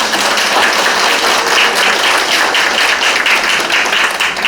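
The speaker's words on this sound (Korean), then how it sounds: "큰 박수 한번 쳐주십시오." Audience applause fills a Korean lecture hall, a dense, steady wash of clapping held at full loudness for several seconds with no talk over it.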